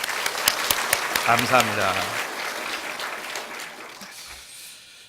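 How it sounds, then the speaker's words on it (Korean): A church congregation claps at an Easter service, a burst of applause that fades out while someone speaks briefly over it. "청년부 위해서 다시 한번 박수하도록 하겠습니다"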